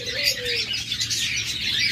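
Spotted doves in a bird market give soft coos and chirps amid a busy background of other birds, with possible wing flutters, fairly close.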